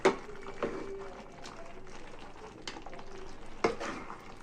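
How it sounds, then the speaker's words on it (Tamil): A tomato and onion mixture for prawn curry is sautéed in a pan, giving quiet, soft sizzling punctuated by a few sharp scrapes and clanks of a spoon against the pan, with no talking. "ஒன்று சேர்ந்து வர அளவுக்கு நல்லா வதக்கி விட்டுடலாம்."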